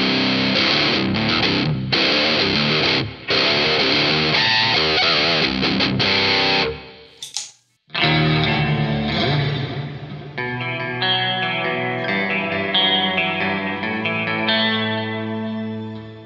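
Electric guitar on a clean setting through a NUX MG-30 modeler, strummed chords ringing out loud and close, then a brief break and sustained single notes and chords with a shimmery, effected sheen.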